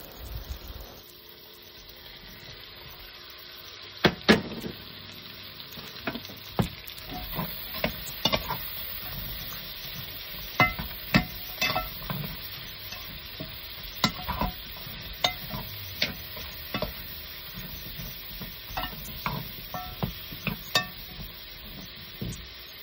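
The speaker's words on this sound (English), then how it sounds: "We're going to add that to the sausage. Go ahead and let that saute for a few minutes." Sausage, onions and red and green peppers sautéing in a pan: a steady sizzle close up for over twenty seconds, broken by repeated sharp scrapes and clacks of a utensil stirring.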